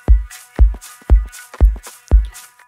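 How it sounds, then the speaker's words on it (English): Electronic drum loop, with a deep kick thumping roughly every half second under layered textured percussion, shuffling hats and crackly noise, loud and close with no talking. "Our drums in total with the texture loop sounds like this."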